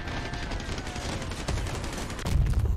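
Rapid machine-gun fire from a Fidget gun mounted on a limo truck during a Crossout vehicle battle, a dense steady crackle of shots that swells louder near the end, with no talking.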